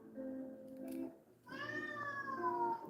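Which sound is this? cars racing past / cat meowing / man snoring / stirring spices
cat meowing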